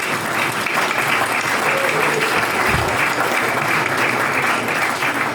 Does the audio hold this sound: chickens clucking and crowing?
no